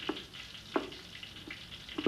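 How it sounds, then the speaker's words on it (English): Peanut oil and a crushed garlic clove sizzle in a hot wok, a constant crackling hiss broken by a few soft clinks or stirring knocks at regular intervals. "The wok is sizzling with a couple of tablespoons of peanut oil and a crushed garlic clove."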